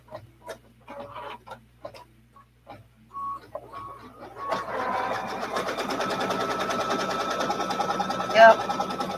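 An embroidery sewing machine stitching a design onto a fabric mug rug, starting after a few scattered taps and a short talking voice, then running as a steady, fast mechanical buzz at close range.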